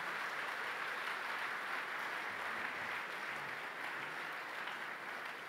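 Steady applause from a church congregation honoring longtime servers of the church, a dense even wash of clapping that holds at constant loudness from start to finish with no voices over it.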